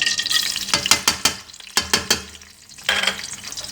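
Ginger garlic paste sizzles in a hot pan while a spoon scrapes and stirs in quick repeated strokes, with a short pause before the sizzling swells again.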